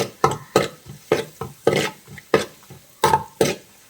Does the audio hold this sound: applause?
no